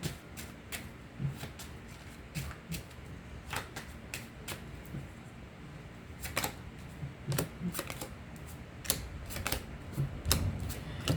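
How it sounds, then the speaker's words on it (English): Tarot cards shuffled close by in quick bursts of sharp riffling snaps, separated by brief pauses with low room noise, and no talking. "Let's shuffle."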